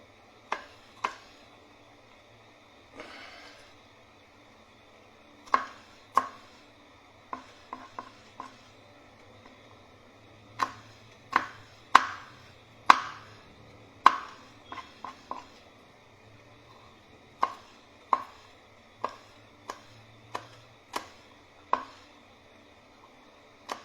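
Garlic being chopped in a home kitchen: quiet, irregular knife knocks on a board come in short bursts and single sharp taps, with pauses between them, and no talking.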